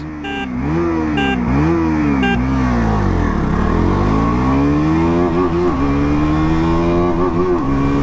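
A 2026 KTM Duke 200 motorcycle accelerating hard during an acceleration test, its engine rising sharply through several quick gear changes and then holding a high, steady drone, loud and close. Short horn beeps sound at the start.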